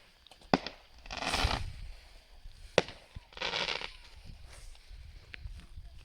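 A fireworks barrage on Bonfire Night on a hill, with sharp cracks and whooshing bursts at a moderate distance, separated by quieter stretches.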